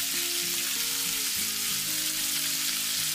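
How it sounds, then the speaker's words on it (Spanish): Raxo pork with potatoes frying in a pan gives a steady close sizzle with faint crackles and light tonal hum underneath, no voices. "lo que necesita el raxo es poco tiempo a sofreír."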